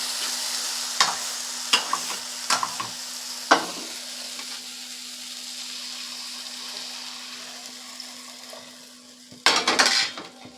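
A spoon scrapes and knocks around a pan of spiced grass carp fish masala after a little water goes in. Several distinct metallic stirs and clinks stand out over a low steady simmer, with a louder burst of scraping near the end.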